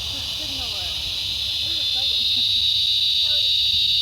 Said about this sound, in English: Oh, sorry if the crickets are too loud.